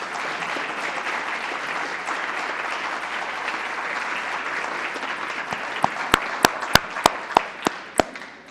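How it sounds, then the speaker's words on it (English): Sustained applause from a school board meeting audience honoring AP scholars, a steady broad wash of many hands clapping with a run of sharper, louder individual claps near the end. "Give a big round of applause for our AP scholars"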